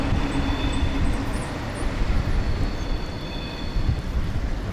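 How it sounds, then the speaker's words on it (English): A train rumbles steadily along a big rail line in Paris, a loud, continuous roar of wheels and carriages with faint high squeals, close by and without talk. "There's a big train line."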